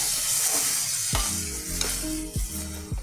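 Water hits fried spice paste in a pan for aair fish curry, a loud hissing sizzle broken by several sharp scraping stirs of a spoon against the pan, close up and without speech.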